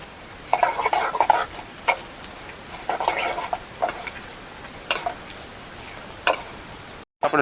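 Bay leaves and whole spices such as cinnamon, cloves and cumin hit hot oil, with bursts of crackling sizzle and clinks of a spoon on the pan in uneven clusters, close by with no talk.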